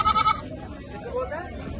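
A lamb bleats briefly and loudly at a livestock goat market in Mullanpur Dakha, Ludhiana, followed by someone talking close by.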